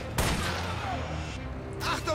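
Sniper rifle shots ring out in the video game Army of Two: The 40th Day, with two loud reports about a second and a half apart, each trailing off into an echoing tail.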